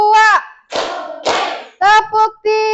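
A standing group in an ice-breaking game alternates chanted call-outs with short bursts of rapid clapping, two noisy clap flurries falling between loud shouted voices.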